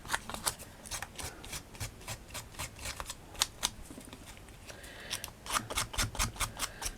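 Scissors snip through a tiny bar of soap being made for a miniature vintage garage diorama, giving a long run of quick, crisp cuts close by, sometimes in fast bursts, with no talking.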